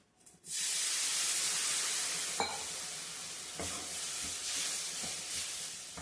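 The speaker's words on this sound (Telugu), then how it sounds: "ఇందులోకి మనం నీళ్ళు పోసుకుందాం." Water poured into a hot frying pan with masala, bursting into a loud rushing hiss after a quiet start, then a sustained steamy sizzle with a few sharp clicks of stirring, close and without speech.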